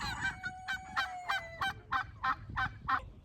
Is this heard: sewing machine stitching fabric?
no